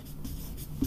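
Chalk or marker writing a chemistry definition on a classroom board, a soft continuous scratchy stroke lasting under a second with a slightly sharper tap near the end, close and quiet with no voices.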